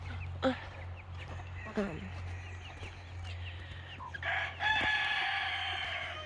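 Hens at an egg farm yard cluck and crow faintly in the distance over a low vehicle hum, with scattered bursts and a brighter squawk near the end, under quiet talk.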